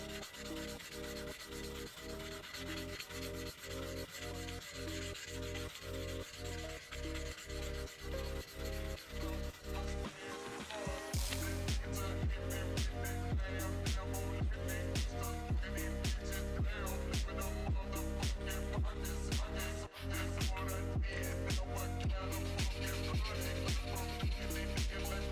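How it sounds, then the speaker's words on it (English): Close, steady scraping of hand sanding on a metal knife blade, repeated back-and-forth strokes in a brisk rhythm with a faint tonal hum behind. "So I'm just hand sanding away on this switch"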